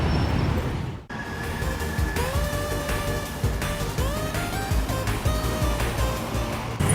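An MRT commuter train rumbles steadily through a station, with rising and falling electric motor whines and a brief dip in noise early on.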